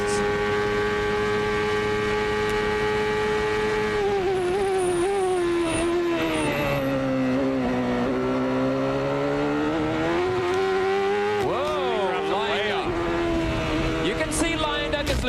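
IndyCar race engine at the 1993 Texaco Havoline 200 at Road America, a loud sustained whine that dips briefly as the driver lifts, then climbs sharply as he blasts through the kink, with commentators talking over it.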